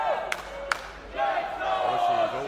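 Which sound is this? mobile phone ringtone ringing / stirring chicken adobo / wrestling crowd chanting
wrestling crowd chanting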